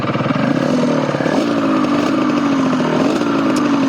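A Suzuki RGV250 VJ22 two-stroke V-twin motorcycle idling close by, a loud, steady buzzing putter with slight wavering revs throughout, no voices.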